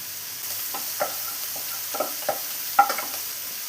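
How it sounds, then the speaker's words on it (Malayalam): Crushed garlic and a small piece of crushed ginger frying in a pan of butter and oil, a faint steady sizzle broken by light scattered scrapes and clicks of stirring, close by with no talk. "ഇതിലോട്ട് നമുക്ക് 8 വെളുത്തുള്ളി ചതച്ച് വെച്ചതും ഒരു ചെറിയ പീസ് ഇഞ്ചി ചതച്ച് വെച്ചതും കൂടെ ചേർത്ത് കൊടുക്കാം"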